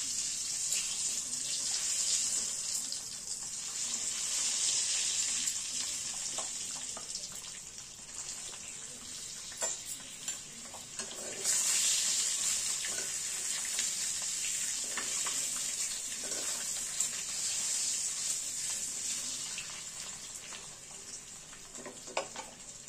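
Eggs frying in oil in a pan, seasoned with turmeric and Kashmiri chilli powder, make a steady bright sizzle with crackling pops, close and continuous.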